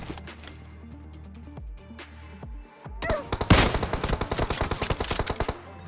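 Rapid automatic gunfire in PUBG Mobile during a solo-versus-squad match, starting quietly with scattered distant shots, then bursting into a loud, close, fast string of shots for the last few seconds.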